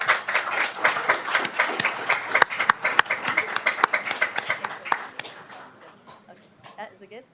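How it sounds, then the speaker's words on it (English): A room of attendees at a Daly City council reorganization meeting breaks into brisk, close applause that holds steady for several seconds, then thins and fades out, with a few voices at the tail end. "Round of applause."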